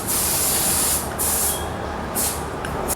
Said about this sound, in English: So we're using the Putolene brake cleaner to kind of clean out the entire display.